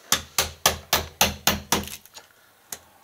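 A hammer strikes a painted door stop on a door frame, trying to prise it off. Seven sharp, evenly spaced blows land close by, followed by a few lighter taps.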